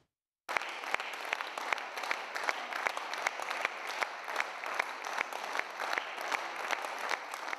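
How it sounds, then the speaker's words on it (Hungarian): Steady, dense audience applause for actress Gabriella Jónás at the Népkör in Subotica, many hands clapping continuously with sharp individual claps standing out, starting abruptly after a brief silence. "Vastaps fogadta Jónás Gabriella színművésznő csütörtökön este a Szabadkai Népkörben."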